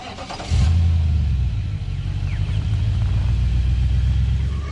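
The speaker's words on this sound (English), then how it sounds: "I'll start the car up, turn the wheels the other way" A Nissan Patrol Y62 engine cranks and catches after a short starter whir, then settles into a steady, loud, close idle rumble that continues to the end, with no talking.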